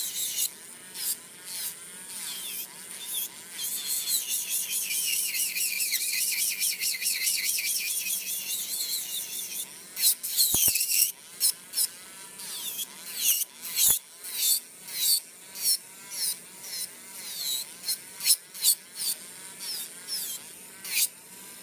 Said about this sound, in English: I'm going to use my drill.